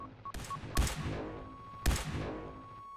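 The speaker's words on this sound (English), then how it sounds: "It's another laser sniper rifle, but is this one actually accurate?" Laser sniper rifle in the Ravenfield video game firing two sharp, loud shots about a second apart, each with a ringing tail, over a steady electronic tone and a few soft beeps.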